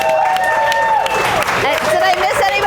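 An audience claps for a photographer during an interview event, a crowd's applause mixed with a speaking voice and some babble over it.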